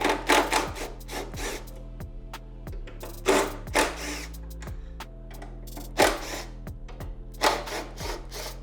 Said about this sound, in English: Right, let's take this bracket off.